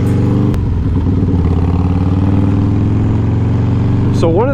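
A Harley-Davidson Fat Boy motorcycle engine runs steadily at a low, throbbing idle, loud and close, with a brief rise near the end.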